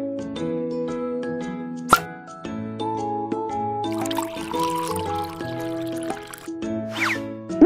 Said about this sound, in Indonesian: Pilih cairan yang benar dan tuangkan ke dalam kotak.